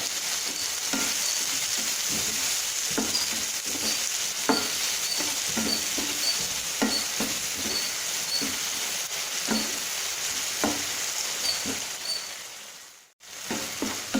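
Tomatoes sautéing with salt in a pan for a green peas pepper masala curry, giving a steady close sizzle with soft scraping stir strokes repeating through the clip and a brief dip near the end.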